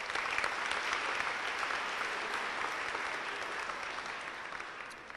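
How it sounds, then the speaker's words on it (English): Audience at a high school academic awards banquet applauding a student award winner, a full, crisp round of many hands clapping continuously, fairly close, gradually tapering near the end. "let's give her a round of applause anyway"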